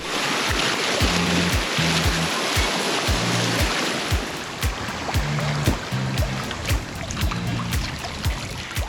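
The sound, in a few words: river rapids rushing water while tubing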